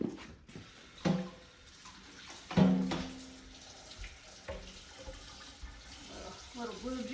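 Sweet potatoes are rinsed under a running kitchen tap, a steady splash of water with intermittent knocks and handling sounds close by, and a voice speaking briefly over it.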